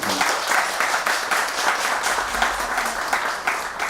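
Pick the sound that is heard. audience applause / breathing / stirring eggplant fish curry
audience applause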